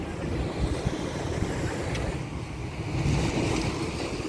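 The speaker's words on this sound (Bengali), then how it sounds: "এই প্রচণ্ড রোদের মধ্যে আমরা চলে এসেছি আজমান বিচে ঘুরতে" Waves wash in at Ajman Beach in the UAE with steady wind, a continuous loud wash of surf and buffeting air noise across the whole stretch, with no voices.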